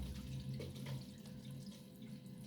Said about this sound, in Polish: I cały czas mi się tutaj dołącza automatyczna dolewka.